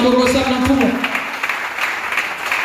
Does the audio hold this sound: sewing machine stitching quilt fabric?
no